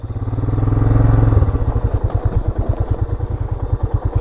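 Motorcycle carrying 50 to 60 kilos of luggage at the rear on a road to Mongolia, its engine droning loudly, then breaking into a fast, even, pulsing chug as the rear wheel slides.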